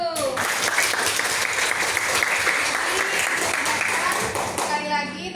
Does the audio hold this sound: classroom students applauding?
yes